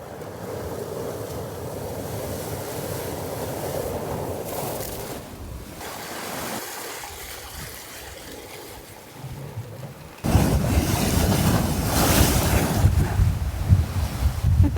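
Surf and gusting wind along a shoreline at low tide on Haida Gwaii, a steady rushing wash that swells louder near the end, with wind buffeting the microphone and no voices.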